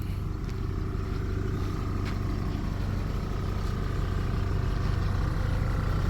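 A car engine running low and steady while the car slowly reverses, with a constant mid-pitched hum and a few faint clicks, near and moderately loud, no voices.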